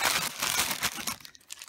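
A plastic gift bag rustles and crackles continuously up close, dense and bright, tapering off into softer scattered crinkles at the end.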